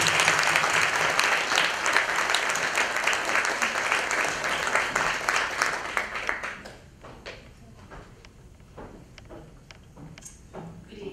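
Audience applause at a European women's federation conference opening, dense clapping for about six seconds that tapers off into a few scattered claps and quiet room noise.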